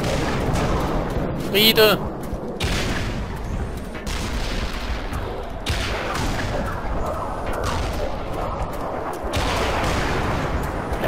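Tank cannon fire and explosions in the game Black Mesa, a run of heavy booms and blasts with one sharp crack near the start, under someone talking.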